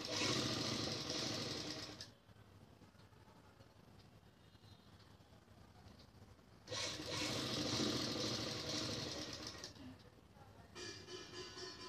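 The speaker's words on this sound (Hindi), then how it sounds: "अब यहाँ सिलाई लगाएंगे।" A sewing machine stitches a salwar seam in two loud, steady bursts, about two seconds at the start and three seconds in the middle, with quieter handling and faint room noise between them.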